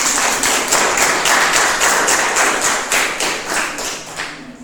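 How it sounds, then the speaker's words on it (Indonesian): A classroom of children claps hands together in a loud, roughly rhythmic pattern of synchronized beats, steady and close, tapering slightly at the end. "Tepuk tangan untuk kita semuanya"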